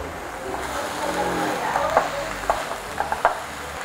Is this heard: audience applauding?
no